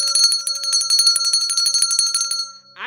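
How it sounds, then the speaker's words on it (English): A small Oshun bell is rung rapidly, producing a bright, sustained metallic jingle of quick strikes close by for over two seconds before stopping, with no talk over it. "gotta ring the Oshun bell for this one"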